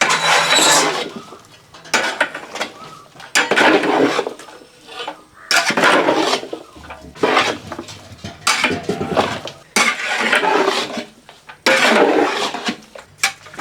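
Chicken with spices stirred in a large pot for a big batch of rice and chicken, heard as loud, repeated metallic scraping and clanking of a ladle against the pot in rhythmic bursts with short pauses.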